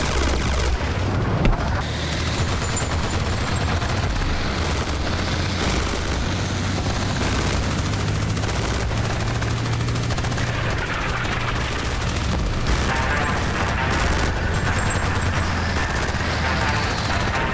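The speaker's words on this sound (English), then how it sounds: "luckily I have enough artillery for now to go ahead and lay that down on" An artillery barrage in the Armored Brigade II war game: a dense, continuous roll of loud booms and gunfire-like blasts that keeps going without a break across the whole stretch.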